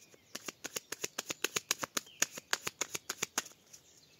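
A Belline oracle card deck being cut and riffled by hand, a quick regular run of about two dozen crisp papery flicks, close and clear, with no voices.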